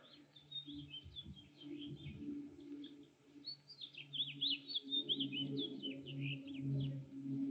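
Small birds chirp and trill in quick bursts at a moderate distance, over a low background hum, with no speech.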